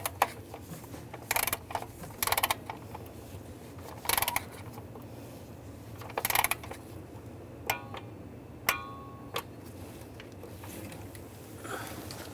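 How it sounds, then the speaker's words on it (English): Ratcheting clicks from a torque wrench snugging spark plugs on a RAM 1500 with the 3.6L V6, heard as short close bursts of rapid ticks separated by pauses, followed by a few sharper single clicks near the end. "Now we're going to torque these to 89 inch-pounds"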